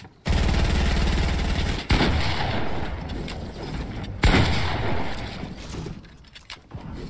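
An enemy's gunfire in the video game Fortnite, a rapid run of loud shots up close, then further bursts and sharp cracks over the ongoing game din before it tapers off.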